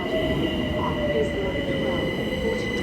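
A train pulls into South Kenton station on the Watford DC line from London, its steady rumble and whining motor tones carrying under a high wheel squeal, close and continuous.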